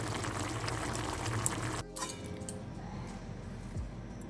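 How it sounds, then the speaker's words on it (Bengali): Batter simmering in a pot, a steady bubbling hiss that drops after a sharp change partway through and continues as softer bubbling, close and moderately quiet, with no voices. "1 মিনিট ফুটে গেছে, এবারে নামিয়ে দেবো"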